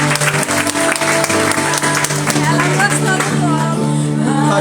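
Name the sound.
church congregation applauding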